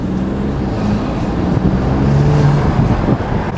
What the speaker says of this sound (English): you can hear a ton of intake noise